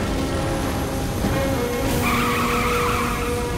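A car accelerating hard in the open-world game Saints Row: The Third, its engine roaring steadily while tires squeal and skid across a continuous, loud, close racing drone.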